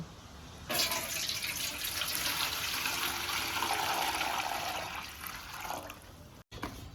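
Cold water pours steadily into a bowl for dahi vada batter, a continuous close rushing splash that holds for about five seconds before easing off and stopping.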